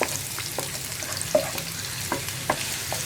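Onions and shallots sautéing in hot oil with ginger for a prawn curry, a steady close sizzle with light scraping stirs and small crackles throughout.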